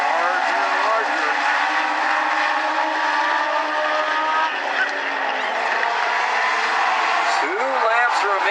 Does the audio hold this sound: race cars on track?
yes